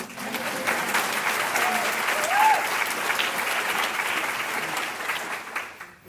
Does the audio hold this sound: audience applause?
yes